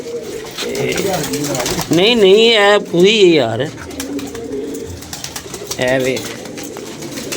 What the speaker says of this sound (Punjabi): ਇਹਦੇ ਵਿੱਚ ਨਹਾ ਲੈਂਦਾ ਕਬੂਤਰ